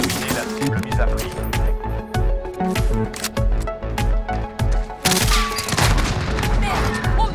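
Rapid gunfire in a video game, with dense bursts of repeated shots, booms and thuds, and a louder barrage near the end, under a speaking voice.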